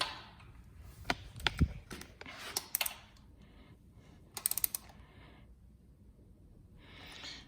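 Clicks and ratcheting from a torque wrench tightening bolts on a 1962 Chrysler Slant Six 225 engine during crank and piston assembly, heard as scattered sharp ticks in short bursts, with quiet gaps between them.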